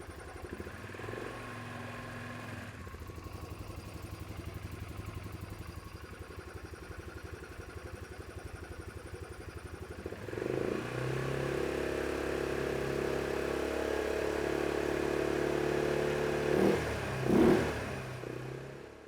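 An ATV engine runs steadily at idle, then picks up with throttle around the midpoint, holding a louder, rougher drone with a couple of brief rev swells near the end during a fuel pressure test.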